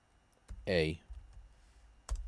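Two separate, fairly sharp key clicks on a German computer keyboard, with a short spoken voice between them.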